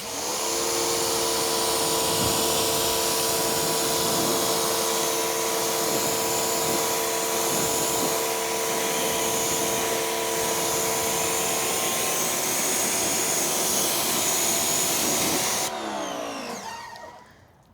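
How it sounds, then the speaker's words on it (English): Pressure washer giving a car a high-pressure rinse, a loud continuous motor-and-spray roar lasting about fifteen seconds before cutting off and fading. "Let's go ahead and give a high pressure rinse."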